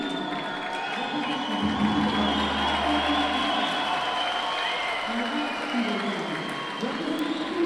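Judo Grand Prix tournament crowd in Almaty cheering and applauding in a dense, continuous roar as a match nears its end, with a commentator's voice running over it throughout.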